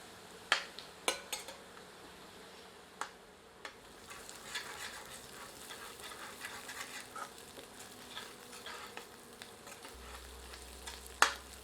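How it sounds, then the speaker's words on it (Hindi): Onions frying over medium heat in a pan for a restaurant-style Mughlai paneer curry, with a soft steady sizzle and a few sharp clinks and scrapes of a stirring utensil against the pan. "मध्यम आंच पर इसे तब तक भूनते हैं जब तक कि प्याज थोड़ी सी पारदर्शी नहीं"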